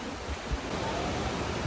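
A waterfall on a mountain trail: steady, broadband rushing of falling water, soft and constant like distant roar, with no voices or other sounds standing out.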